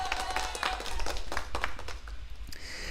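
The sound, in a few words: played applause sound effect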